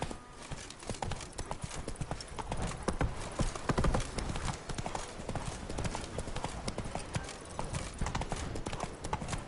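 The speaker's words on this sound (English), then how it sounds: "Run, Roach" A horse gallops in the video game The Witcher 3: Blood and Wine, with fast, dense hoofbeats drumming steadily and close throughout.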